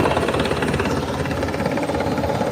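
A helicopter arriving near the water to pick up Rangers, its rotor chop and engine drone a steady, fairly loud pulsing throb with no voices.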